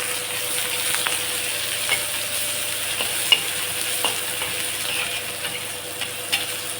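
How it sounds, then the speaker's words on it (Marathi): Cumin and mustard seeds sizzle in hot oil as a spicy tempering, giving a steady close hiss broken by faint pops and crackles, with no voices. "कडक फोडणी,"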